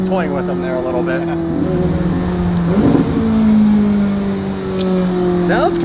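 A McLaren 600LT supercar accelerates hard in a race, engine droning loud and close with a rising pitch and a brief burst of crackle partway through, under steady talk.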